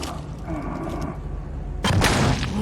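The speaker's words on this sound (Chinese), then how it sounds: "还居然朝里面开枪！" Hunter's gunfire in the video game Little Nightmares 2, set in a forest cabin: a low rumbling game backdrop gives way to a loud, sudden shot blast near the end.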